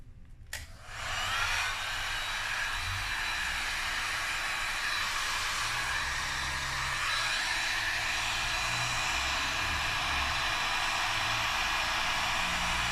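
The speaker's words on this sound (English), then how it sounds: "let's get the heat gun and blow it back." A heat gun blows steadily on poured resin for a charcuterie or cutting board, a loud continuous airy whoosh with hiss that starts after a brief pause and holds without a break, with no talking.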